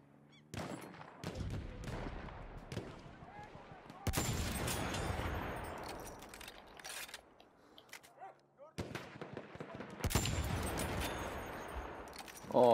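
Gunfire in the Battlefield 1 video game: rapid bursts of sharp, loud shots in several clusters, separated by short quieter gaps, with no talking.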